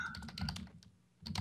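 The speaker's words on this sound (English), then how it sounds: "Oh, I just typed something." Typing on a computer keyboard during a multiplayer game session: a quick burst of close key clicks, a short pause, then another cluster of taps.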